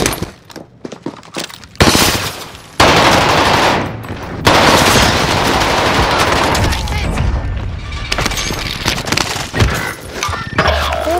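Call of Duty: Modern Warfare gunfire comes as loud, dense automatic bursts and rapid shots that sustain for several seconds, with brief pauses between volleys and game voices mixed in.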